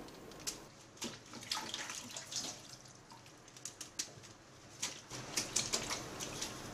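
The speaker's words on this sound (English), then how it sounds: "Now, wash this choy sum." Running water splashes steadily with intermittent sharp clatters and drips as choy sum is rinsed under a tap, fairly close.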